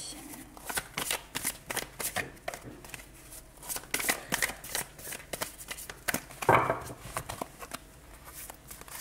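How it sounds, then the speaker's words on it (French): A deck of tarot cards being shuffled by hand: repeated soft riffling and flicking bursts close by, steady throughout with a sharper snap near the end. "Allez, on va prendre le paquet dans ce sens-là, ce sera plus simple pour mélanger."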